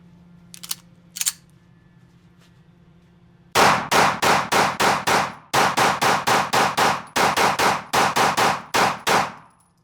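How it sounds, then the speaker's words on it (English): A steel-frame pistol with brass grips is fired in a fast string of loud, sharp shots in quick bursts, after a couple of faint earlier pops. "So let me shoot a little bit here."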